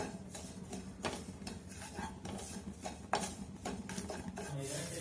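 Semolina roasting in ghee for beetroot kesari, with a utensil scraping and stirring the pan in quick, irregular strokes; clinks and scrapes come close and moderately loud, with no talking.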